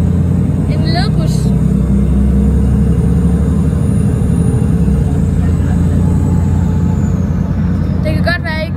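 Seated inside an articulated city bus on the move, the engine and road rumble form a loud, low, continuous drone throughout, with brief voices near the start and end.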